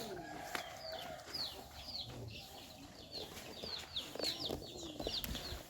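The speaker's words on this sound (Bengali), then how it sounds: "সব মুরগিগুলো ডাকছে" Village chickens cluck in the early morning at a rural nature camp near a forest. The clucking is faint and distant, mixed with scattered high bird chirps over a soft outdoor hum.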